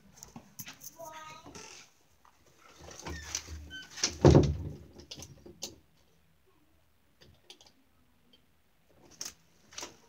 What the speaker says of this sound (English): Lock this door.